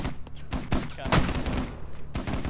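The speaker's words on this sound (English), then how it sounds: "mortars are firing again" Repeated heavy mortar fire in the video game Squad, loud booming reports landing every fraction of a second amid a busy battlefield, with scattered voices over the gunfire.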